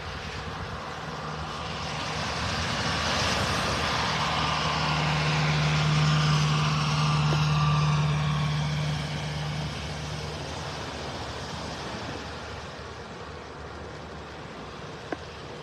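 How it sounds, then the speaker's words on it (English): Tractor driving along a beach in North Naples, Florida, a steady low engine rumble that swells as it passes nearby and then slowly fades, with wind noise around it. "The tractor seems to be going fast this morning."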